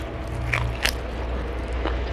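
Someone bites into tough, chewy salt-cured chicken with a sinewy bite, giving a short, close crunch and a few soft crackles over steady low background noise.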